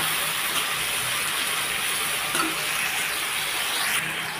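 Potatoes fry in a thin layer of oil over a low gas flame, giving a steady, even sizzle that stays close and constant throughout, with faint scrapes of stirring now and then and no voices.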